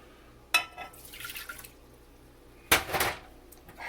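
Water is poured into a pot for cooking rice, in two short splashing bursts separated by a pause, close by and fairly quiet.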